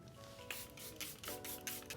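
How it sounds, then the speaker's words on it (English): Charlotte Tilbury setting spray misted onto a face in several short, close hissing bursts with soft pauses between them. "I'm gonna go ahead and spray the Charlotte Tilbury setting spray."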